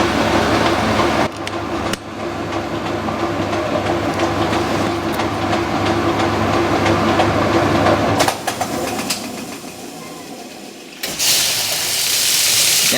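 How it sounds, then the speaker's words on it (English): The pump of a 1996 Whirlpool direct drive washer rattles during a towels normal cycle, making a loud, continuous, close mechanical drone with clattering and a few abrupt shifts in level. "Is that the cabinet I'm carrying, or is that the pump? Ah, I think it's the pump. Thought I heard a rattling sound."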